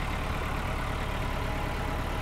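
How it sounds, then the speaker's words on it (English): The diesel engine of a 1972 Nissan Caravan camper van idles steadily up close, a continuous low rumble with a faint knocking texture and no talk over it. "So you can hear the engine is nice."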